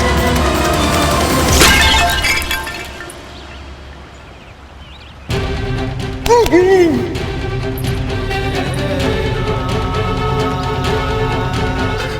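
Clay water pot shattering in a mythological drama scene, a sharp breaking crack with scattering fragments, followed by dramatic music and other effects, loud and close.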